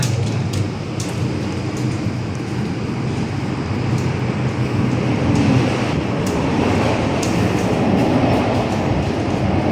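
An MTR M-Train runs upbound from Yau Tong to Tiu Keng Leng, heard from inside as a steady, loud, broadband rumble and roar with faint rhythmic clatter, continuing without break.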